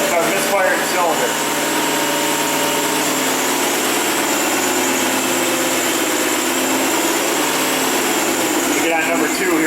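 A Hyundai Sonata engine idles with cylinder number 6 misfiring, giving a steady, loud, close mechanical drone with faint irregular roughness throughout, while a voice talks over it.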